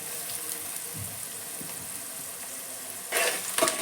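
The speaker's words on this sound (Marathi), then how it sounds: "आता मी याच्यात कढीपत्ता घालते" Curry leaves drop into hot oil already frying sliced onions and crushed garlic in a pan. A soft, steady sizzle near the end flares into a brief louder crackle.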